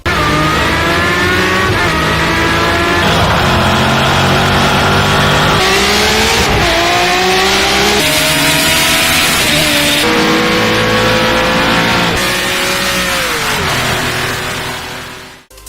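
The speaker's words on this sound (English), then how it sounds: "You can hear everything from the roaring revs, the tyre screeching, the engine components, the gear shifting, the road effects, and my fave, the car exhaust." A race car in the Project Cars 2 racing game roars through rising and falling engine revs with gear shifts, tyre squeal and exhaust noise, loud and continuous for about fifteen seconds before cutting off abruptly.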